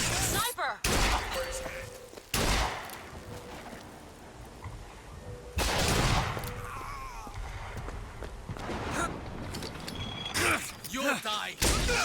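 Gunfire from a sniper in the video game BioShock Infinite, several sharp loud shots and bursts of combat noise scattered among game sounds, with voices shouting briefly in between.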